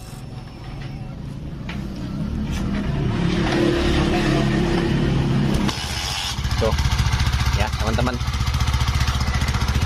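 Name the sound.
engine being started and idling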